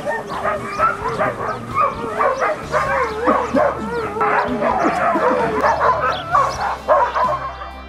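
Huskies at a sled-dog farm in Lapland, Finland, bark, yip and whimper in a dense, overlapping chorus of many dogs, loud and close, continuing steadily throughout.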